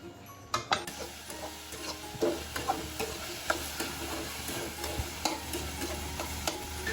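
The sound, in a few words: sweet pumpkin being fried in a pan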